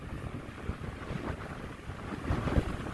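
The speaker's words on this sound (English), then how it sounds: "So I'm getting closer, but it's getting a lot windier." Wind gusts roughly across the microphone on a shore, with the low wash of surf underneath, fairly quiet overall.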